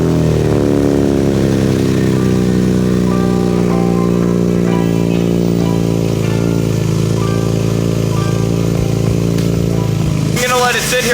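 A BMW S54 straight-six swapped into an E30 runs at a steady, loud idle with a rich harmonic drone and slight lope, close to the microphone, before a brief burst of louder noise near the end.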